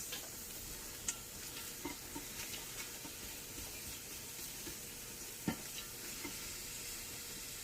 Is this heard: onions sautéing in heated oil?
yes